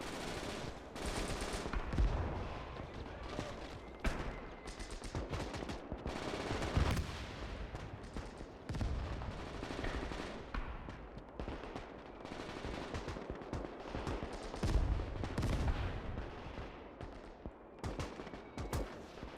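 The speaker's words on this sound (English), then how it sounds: "Some nice rapid fire there from the G43" Rapid shots from a G43 rifle crack repeatedly amid a dense, distant video game battle din of scattered gunfire and bursts in a late-war trench assault in Gates of Hell, with no pauses.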